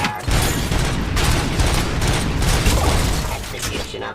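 Gunfire in the video game RoboCop: Rogue City: dense, loud, continuous bursts of rapid shots with heavy booms and mechanical clatter, running for several seconds without a break.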